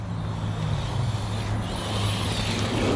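An Arrma Fireteam RC car slides around at a park after a tap of the handbrake: a steady, close whirring motor drone with a rough hiss of tires scrubbing across the surface.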